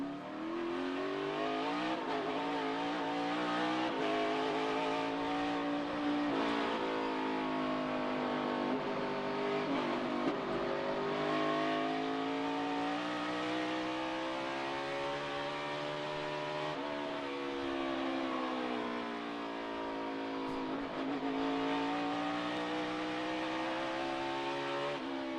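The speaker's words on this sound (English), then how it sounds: "he backs off the throttle and lets the car coast into the corner" A Toyota NASCAR Cup race car at the 2018 Save Mart 350 road course lifts off throttle and coasts into a corner, its engine note falling and rising in long sweeping pitch curves amid other cars, sustained and moderately loud.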